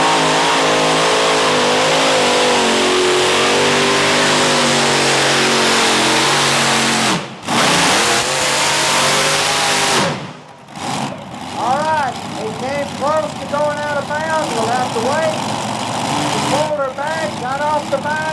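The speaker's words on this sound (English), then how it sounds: "Phil Higgins driving Jim Brockman's Kendall Kodiak In-Laws and Outlaws pulling tractor with 5" A modified pulling tractor, the Kendall Kodiak 'In-Laws and Outlaws', roars at full throttle during a 1996 tractor pull in Chapel Hill, Tennessee. The loud engine cuts out briefly twice, then revs back up as an announcer talks over it.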